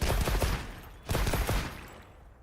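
A weapon in Monster Hunter Wilds fires in two loud bursts of rapid shots separated by a brief gap, the second trailing off into fading echo.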